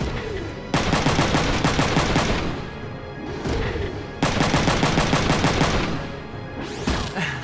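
Sustained automatic gunfire from mech weapons in Front Mission 3, loud and close, in two long rapid bursts separated by brief pauses and ending in a shorter burst.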